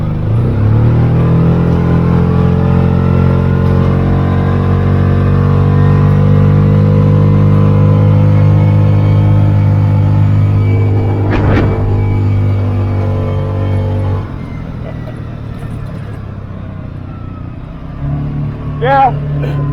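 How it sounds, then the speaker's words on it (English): A Mule utility vehicle with a 700cc motor accelerates, its engine drone climbing steadily in pitch, loud and close, then easing off. A brief clank and a voice follow near the end. "For such a little, 700cc motor, this thing gets up and goes."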